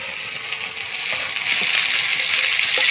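Fried prawns with ginger-cumin paste and onion-tomato being stirred in a hot pan, a loud steady sizzle that swells slightly, with a few soft scraping clicks, close and without talk.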